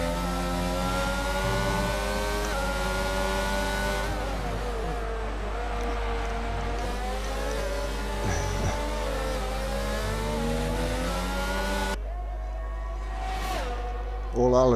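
Engine note of an Alpine Formula 1 car in the F1 22 racing game, a steady high whine running under constant race commentary throughout.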